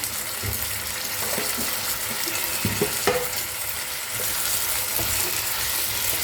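Jackfruit and prawn curry sautéing in oil in a pan, frying with a steady sizzle while a spatula stirs and scrapes, leaving scattered knocks and clinks across the continuous crackle.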